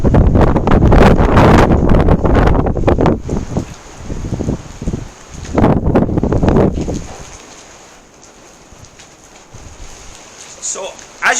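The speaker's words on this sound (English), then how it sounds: "So, as you can see with this bit of netting off a bale, there's strong wind." Strong stormy wind from a named storm batters the microphone on a farm, with bale netting flapping nearby; loud roaring gusts come and go, easing into quieter lulls before picking up again.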